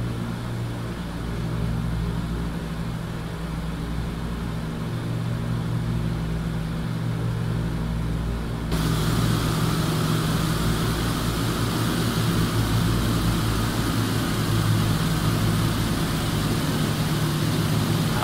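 Four piston engines of a PMDG DC-6 airliner in a flight simulator droning steadily at climb power, a dense near roar that steps up louder and rougher midway as power increases, no talk.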